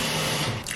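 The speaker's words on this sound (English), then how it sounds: "I'm actually gonna throw in a little bit more water and let that kind of cook out while I'm gone." Water poured into a pot of simmering soup, a short close splashing pour with bubbling that tapers off near the end.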